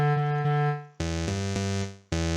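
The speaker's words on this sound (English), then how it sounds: "This is the sound of a bass clarinet," Bass clarinet tones from the Song Maker app's woodwind option, a sustained reedy note followed by several loud repeated notes with short fading gaps between them, unaccompanied by speech.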